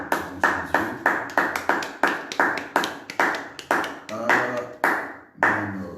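A church congregation at a midday prayer service claps in a steady, loud rhythm of sharp, evenly spaced hand claps to acclaim God, about two per second, close and sustained throughout.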